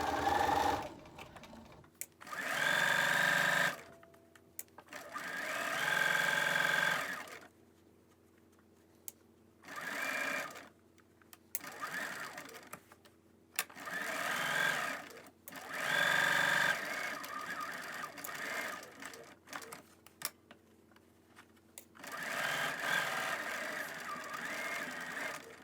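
A sewing machine stitches around a cloth face mask in loud, close bursts of whirring a few seconds long, separated by quiet pauses with small clicks as the fabric is turned.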